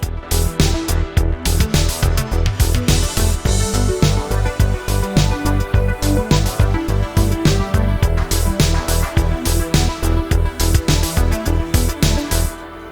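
A drum bus processed with the Arturia Bus Force plugin is switched between bypassed and active: a loud, dense drum groove with punchy kicks and crisp hits repeating steadily throughout, with no talking.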